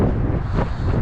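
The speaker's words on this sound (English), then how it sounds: "you might hear a little bit of a breeze or some wind in the footage here" Wind gusts buffet the microphone on a lakeside park trail, a low, steady roaring rumble with a brief swell midway, loud and close with no voices.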